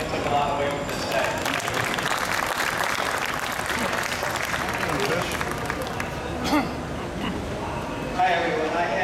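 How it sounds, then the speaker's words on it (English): A crowd applauds at the close of a culinary arts competition, with sustained, dense clapping and some background voices throughout. "I think you guys really should give yourselves a round of applause"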